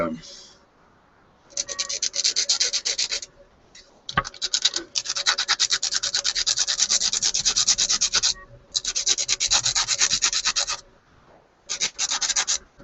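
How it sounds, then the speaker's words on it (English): Rapid scratchy scraping of epoxy being mixed for model building, coming in several long bursts separated by short pauses, close and fairly loud, with no speech. "let's mix some epoxy up here"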